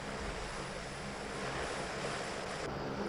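An SR.N5 hovercraft runs in British North Borneo with a steady, loud engine and propeller roar that drones on without a break.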